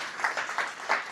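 Brief, faint round of applause from an audience at a lecture on phosphorus sustainability, heard as a soft wash of clapping with a few louder swells over about a second.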